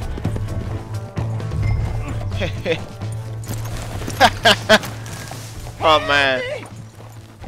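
Hooves clip-clop as a horse gallops in the video game Red Dead Redemption 2, running under a low steady rumble, with someone talking over it and a brief horse whinny near the end.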